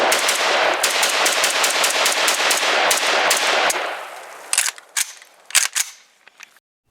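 A SIG SG553R rifle fires at a shooting range in a rapid, loud string of shots for nearly four seconds, then a few separate louder reports with short gaps, ending in quiet.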